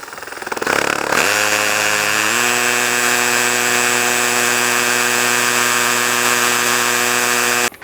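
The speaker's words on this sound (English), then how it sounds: "In, we get the hole, we start slow. And you can hear it already, right?" Hammer drill boring into concrete: a brief scrape then a loud, steady grinding whine with a constant pitch that holds for several seconds, close and alone.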